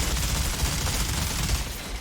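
Minigun fire from a Technomancer in the shooter game Outriders, a dense continuous rattle of rapid shots with heavy low thumps, loud and unbroken for the full two seconds.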